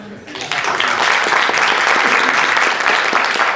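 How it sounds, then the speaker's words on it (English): A theatre audience bursts into warm, sustained applause for a music-hall clown act, dense clapping swelling quickly and holding steady, with voices audible beneath it. "a warm round of applause for Nick Trickard and his son"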